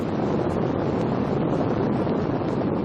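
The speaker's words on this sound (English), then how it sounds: "This is the noise produced by the LEM's ascent engine during a ground test." Apollo lunar module ascent engine firing during a ground test, a steady, loud broadband roar that holds constant without pause.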